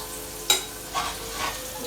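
Beef for crispy chilli beef frying in hot oil, a soft steady sizzle with a sharp crackle near the start and a couple of gentler hissing swells after, close and fairly quiet.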